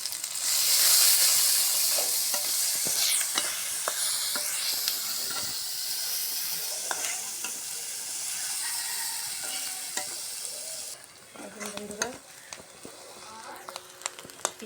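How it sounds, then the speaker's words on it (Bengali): Chopped onion, green chili and garlic cloves fry in oil, giving a steady close sizzle and hiss with scattered scraping clicks from stirring that run throughout, easing slightly toward the end. "কাঁচামরিচ সুন্দর করে লাল লাল করে ভাজা হয়ে গেছে"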